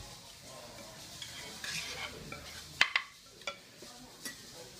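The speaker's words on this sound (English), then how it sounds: "Put your rice then stir everything together." Kimchi fried rice being stirred in a pan after the flame is off, giving a soft sizzle with scraping spatula strokes and a few sharp clicks of utensil on metal, close and fairly quiet, with no talk.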